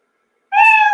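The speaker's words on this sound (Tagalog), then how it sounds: "pag narinig nyo na yung pusa na nag-meow" A cat meows once, a single clear, close and fairly loud call that starts abruptly and holds for about half a second after a silent lead-in.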